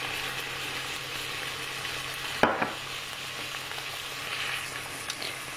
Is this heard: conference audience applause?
no